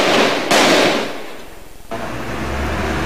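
Gunfire rings out during a clash between soldiers and MNLF rebels in Zamboanga City: two loud, sharp blasts about a second and a half apart, with a quick rattle of fainter shots and echo trailing between them.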